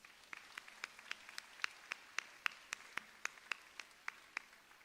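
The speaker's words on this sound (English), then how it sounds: "So a big clap to those teams." A small primary school audience claps for its sports teams, a sparse run of distinct individual handclaps in an irregular rhythm, faint and fairly distant, with no talking.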